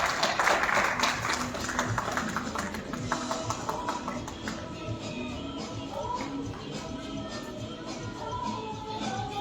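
An audience claps at a women's banking conference in India, a loud burst of applause that is steady at first and then thins into scattered claps, with some voices mixed in.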